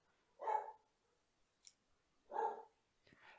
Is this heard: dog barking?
yes